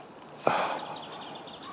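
Birds call outdoors on a morning near a temple with stone walls: light, repeated high chirps sound faintly over a steady background hiss. A short, soft thump comes early on.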